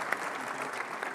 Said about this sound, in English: Gets its own round of applause.